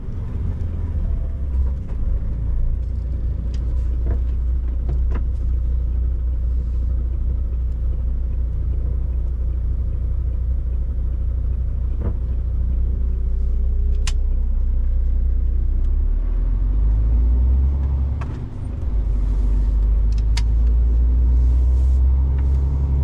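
A truck rolls onto the motorway with a continuous low rumble and road noise from inside the cab, steady throughout with a few faint clicks and a brief dip near the end.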